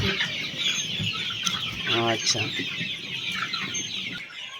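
Chickens on a small local poultry farm cluck and chatter repeatedly in the background, one clearer call standing out midway, while a person briefly speaks over the flock.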